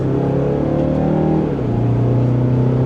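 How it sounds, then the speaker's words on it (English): A 2026 Mazda CX-5 S Premium Plus in sport mode accelerates at full throttle from second gear, its engine droning loud and rising in pitch, dipping briefly at a gear change, then climbing again. "And we're in sport mode from second gear. Here we go. Pedal to the floor."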